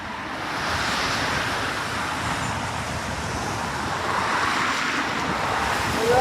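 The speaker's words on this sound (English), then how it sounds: "A noisy old road, this Buxton Road." Road traffic on Buxton Road in High Lane, Stockport, a steady broadband roar of passing vehicles that swells slightly toward the end, mixed with wind buffeting the microphone.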